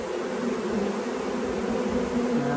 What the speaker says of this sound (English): So these are all our bees in here.